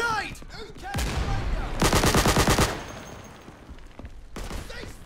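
A Sten submachine gun fires in the World War II shooter Day of Infamy, a short sharp automatic burst of about nine rapid shots, with other gunfire and a voice talking before and after.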